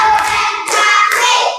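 Students in a classroom clap on a teacher's count: three crisp group claps spaced roughly half a second apart, each trailing a short ring, heard up close.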